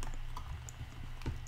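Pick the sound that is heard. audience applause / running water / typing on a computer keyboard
typing on a computer keyboard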